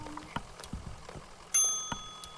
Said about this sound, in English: That's a good bell.